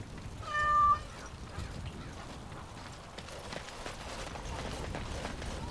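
A cat in the video game Dragon Age Origins Awakening gives a single short, clear meow near the start, followed by quiet game ambience.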